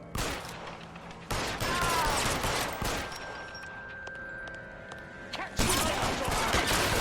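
Blind-fire gunshots during a shootout in the game L.A. Noire: loud bursts of rapid gunfire at the start and end, with quieter scattered shots and a sustained tone in the middle stretch.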